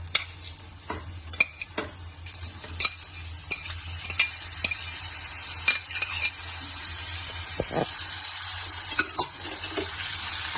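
Chopped tomato sautéing with onion in hot oil in a pan makes a low continuous sizzle, punctuated by sharp clinks and scrapes of a spoon stirring against the metal, close and without talk.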